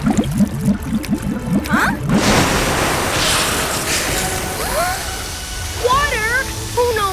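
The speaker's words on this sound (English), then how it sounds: "I must have hit underground water." Cartoon water gushing up out of a freshly dug hole, a broad rushing splash that swells after a short spoken line and continues steadily, with whistly cartoon effects and voices over the end.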